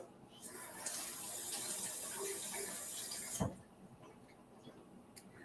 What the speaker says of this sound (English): I'm going to give my hands a little rinse since I got egg on them.